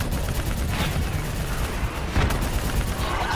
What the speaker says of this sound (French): Faut concentrer nos tirs sur cette ADA.